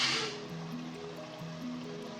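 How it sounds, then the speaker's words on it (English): Dry pasta dropped into a pot of boiling salted water with a little oil, giving a brief splash followed by a soft, steady bubbling and sloshing close by, with no talking. "Put in your pasta."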